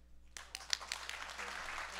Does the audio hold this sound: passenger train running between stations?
no